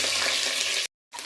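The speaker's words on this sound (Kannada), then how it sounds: "ಇವಾಗ ನಾನು ಒಣಮೆಣಸಿನ್ಕಾಯಿ ಹಾಕ್ತಾಯಿದ್ದೀನಿ, ಮತ್ತು ಹಸಿಮೆಣಸಿನ್ಕಾಯಿ ಹಾಕ್ತಾಯಿದ್ದೀನಿ" Dry red chillies and green chillies fry in hot oil in a pan, giving a loud, steady sizzle close up that cuts off abruptly and then resumes briefly.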